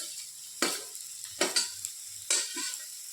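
Finely chopped bottle gourd is stirred in a hot pan with coriander. Three sharp, loud bursts of sizzling come from the stirring strokes, each fading into a quiet hiss.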